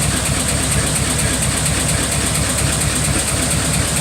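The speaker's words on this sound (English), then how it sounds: "turn the key on, let the fuel pump, prime the carburetor, give her a couple pumps, hit it, and she's off and running" A 1927 Ford Roadster's flathead engine idles loud and close, a steady, even rumble with a regular pulsing beat throughout and no talking.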